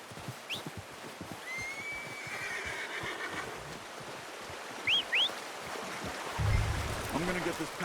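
A horse in Red Dead Redemption 2 whinnies faintly amid outdoor ambience with flowing water and soft hoof clops, followed by a brief snort nearby.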